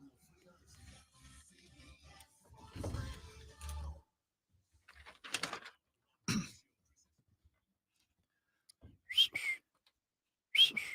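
A person tries to whistle, producing a few short, breathy whistled bursts and throat noises among scattered quiet sounds, with faint voice-like murmurs early on.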